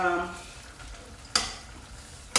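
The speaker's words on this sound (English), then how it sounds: "we're just going to stir it around just to get the flavor out good" Vietnamese chicken stew (gà kho) stirred in a sizzling pan, a steady fry with two sharp scraping clatters of the utensil against the pan.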